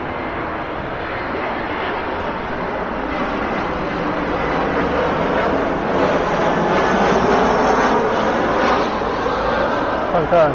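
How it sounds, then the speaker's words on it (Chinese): Descending airliner on approach to Shanghai Hongqiao Airport, a loud steady engine roar that swells gradually while heard outdoors from a roadside, with no talk over it. "看看这个下降的飞机的雄姿啊。"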